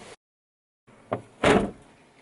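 The door or tailgate of a Suzuki Ignis is slammed shut hard, giving a sharp click and then a loud heavy thud close by, after a brief silence. There is no talking.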